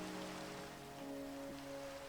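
Steady rain pattering down in Minecraft on Xbox 360, a continuous even hiss at low volume with faint tonal game sounds under it.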